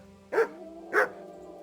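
A dog named Mutt in the video game Kingdom Come Deliverance 2 gives two short, close barks about half a second apart, clear over a quiet background.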